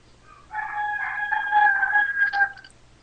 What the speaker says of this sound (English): it's the neighbor's roosters